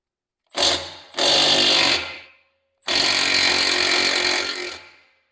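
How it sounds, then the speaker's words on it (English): A small 12-volt cordless impact wrench with a 3/4 inch socket hammers at nuts on a mini skid steer drive motor: one short burst, then a longer one, a pause, and a sustained rattling run, loud and close with no talk. "So let's see if the little 12-volt impact can move them."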